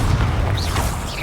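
A Confringo fire spell blast in the video game Hogwarts Legacy, a low rumbling boom with a whooshing fiery tail, loud and close, lasting about a second.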